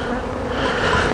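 Honeybees drone in a dense, steady buzz at an open hive during a springtime colony check, the close swarm sound filling the whole moment without a break.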